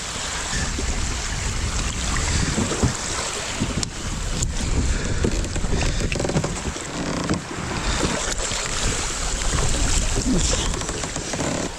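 Strong wind roars continuously across the microphone at a coastal park, buffeting loudly, with water splashing and faint creaks beneath the gusts.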